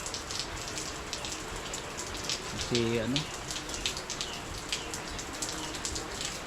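Steady rain pattering on a surface with scattered drips, continuous throughout, while a voice speaks briefly partway through.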